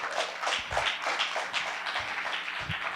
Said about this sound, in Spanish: ¿Quieres darle un aplauso a Jesús por lo que hace?